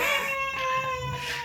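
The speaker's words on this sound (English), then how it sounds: "If you can hear in the background, the baby is not sleeping." A baby fusses and cries in the background at home, a thin high wail that rises and falls steadily through the moment, moderately loud with no talk over it.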